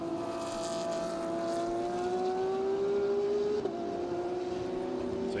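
Race cars at the Sepang 12 Hours endurance race pull out of a corner, engines droning and rising steadily in pitch as they accelerate at a distance, a continuous motorsport roar without talk.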